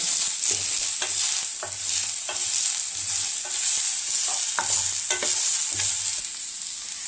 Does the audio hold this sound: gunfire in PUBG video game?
no